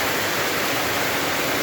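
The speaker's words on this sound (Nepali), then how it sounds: "रातमाटातिर सिन्धुपाल्चोक जिल्लामा अहिले पानी परिरहेको छ गाइस" Heavy rain with wind pours down steadily in Sindhupalchok, Nepal, a dense, unbroken roar of falling water close by with no voices.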